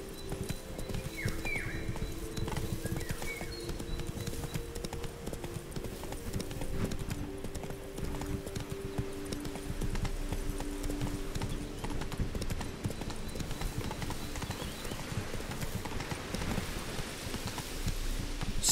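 A horse's hooves clip-clop at a steady walking pace in The Witcher 3, with rain pattering in the background, a brief whinny and a soft game music bed beneath.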